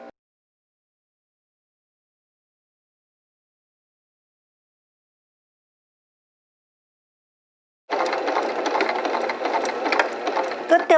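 A sewing machine stitches a vertical seam on a summer sleeveless dress, starting after a long silence and running as a close, steady whirring rattle for the last few seconds.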